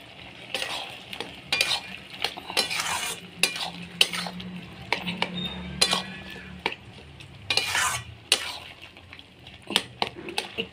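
Papaya and potato curry with prawns and lentils being stirred and mashed in a pan, with repeated scraping strokes of a spoon over a soft, low sizzle, close and clear, no talking.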